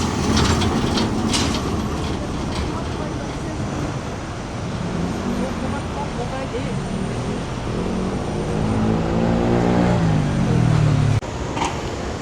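A tram in Belgrade, Serbia, a continuous loud rumble of wheels and motor with a rising and falling whine near the end, heard close by from a stop with background city noise.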